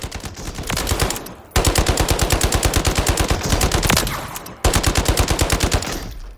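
A B&T APC300 firing 300 Blackout in Warzone lets off two long, rapid automatic bursts, loud and close. A short pause separates the bursts, and no one speaks.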